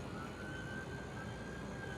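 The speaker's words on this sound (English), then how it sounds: "We got more sirens. Let's see, more ambulance." Ambulance siren sounding far off, a faint steady wail sliding slowly in pitch beneath a constant low background hum, quiet and distant.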